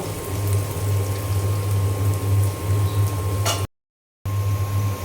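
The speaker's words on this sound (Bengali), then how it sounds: "আর এখানে যে বাগারের জন্য তেল দিয়ে দিয়েছি দিয়ে দিয়েছি পেঁয়াজ কুচি রসুন কুচি আর আস্ত জিরা এখন আমি সুন্দর করে ভেজে নেব" Chopped onion, garlic and whole cumin seeds sizzle in hot oil with a steady, even hiss over a low electrical hum, broken by a brief total dropout near the end.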